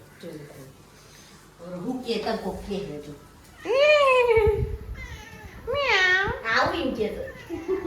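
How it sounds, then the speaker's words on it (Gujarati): A cat lets out several drawn-out meows close by, with a voice talking in between and around them. "આ બાજુ મારી બિલ્લી બેન અહીં બેસી ગયા છે."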